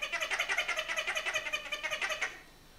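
A toy lemur gives a rapid, pulsing electronic chirp, a rhythmic, faintly cat-like warble lasting about two seconds before it stops, heard close up with no talking.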